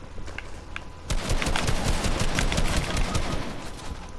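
Lever-action rifle firing in a video game, a dense run of sharp reports after a short lull, loud and close, with other game gunfire mixed in.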